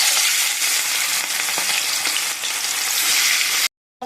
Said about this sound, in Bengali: এবার মাছটা আমি হালকা ভেজে নেব